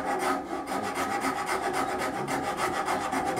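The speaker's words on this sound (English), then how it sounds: "I've got the Nicholson rasp here." Close, continuous rasping as a Nicholson rasp files a wooden cabriolet table leg, with even back-and-forth strokes in a steady rhythm and no voices.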